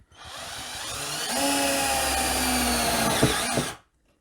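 An Edon AD-12AUN cordless drill on second speed drives ordinary self-tapping metal screws through 1.8 mm profiled fence sheet, a steady loud motor whine rising under load for about three seconds, then stopping abruptly.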